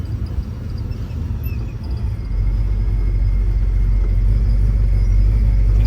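A supercharged 1965 Chevrolet Malibu with twin TorqStorm superchargers drones with a deep, steady engine rumble while being driven, growing noticeably louder and fuller after about two seconds, with no talking.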